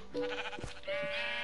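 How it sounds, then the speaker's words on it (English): Sheep bleating in the Minecraft video game, two short synthetic bleats in quick succession, loud and close with no talk over them. "Actually, I'm gonna kill these sheep, actually."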